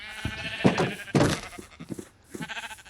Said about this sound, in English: no lack of sheep over here